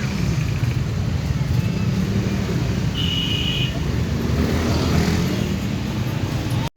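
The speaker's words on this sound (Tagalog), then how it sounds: "Nagbubuhol-buhol ng mga sasakyan pag ganitong oras." Heavy road traffic in the Philippines makes a steady, dense roar of engines and tyres that stays constant and fairly loud throughout, with a brief high tone partway through.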